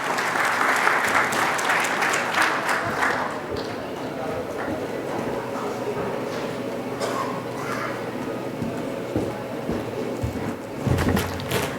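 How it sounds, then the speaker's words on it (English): Audience applause at an international galvanizing industry conference, steady clapping from a large hall that rises near the start, holds through the clip and swells again at the end, with some voices mixed in. "a round of applause to thank sir"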